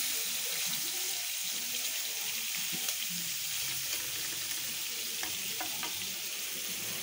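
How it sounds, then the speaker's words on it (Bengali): Koi fish frying in a pan give off a continuous hissing sizzle at moderate volume, with faint scattered clinks and kitchen noises underneath. "আমি এদিক দিয়ে কই মাছগুলো ভাজা বসাই দিলাম"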